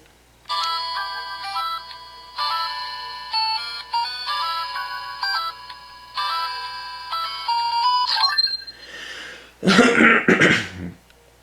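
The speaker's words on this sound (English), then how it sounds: "So first you have the ringtone." A DX Zeztz Phone toy from Kamen Rider Zeztz plays a bright electronic ringtone melody in several repeated bursts, followed by a brief rustle and a cough-like noise at the end.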